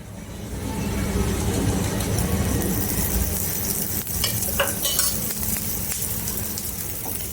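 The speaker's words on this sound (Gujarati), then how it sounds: "હવે આપણે ઉપર તેલ થોડું નાખીશું." A little oil is poured over a Kathiyawadi evening snack cooking in a pan, raising a steady, close hiss of sizzling that runs evenly throughout, with a few faint clicks near the end.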